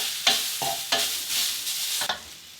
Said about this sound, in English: Just to toss around a little bit and get that garlic flavor going